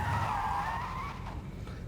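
Tyres skid as a car reverses in Forza Horizon 5, a loud squeal lasting about a second before fading into rumbling engine noise.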